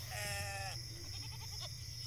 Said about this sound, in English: Sheep shifted noisily in their pens surrounding us